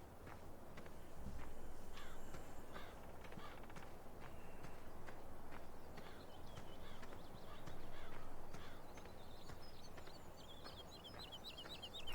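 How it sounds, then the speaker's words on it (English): Birds call in a Farming Simulator 17 landscape, scattered chirps and cawing calls over a soft, constant ambient rustle. "You can hear the birds chirping and all the green growing trees."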